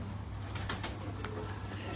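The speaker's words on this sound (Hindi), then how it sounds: "ये बहुत खूबसूरत कबूतर है, मजबूत जान कबूतर है" A pigeon kept on a Karachi rooftop coos softly at close range over a steady background hum.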